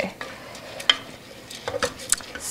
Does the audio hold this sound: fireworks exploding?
no